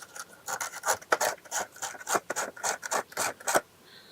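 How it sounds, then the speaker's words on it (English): Sandpaper rubbed back and forth over electrical terminals, a quick rhythmic series of close, raspy scraping strokes that continue steadily for several seconds with no talking. "Some sandpaper."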